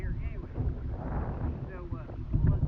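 Wind gusting on a lake during rafting, a continuous buffeting rush against the microphone with water movement beneath and a voice talking over it.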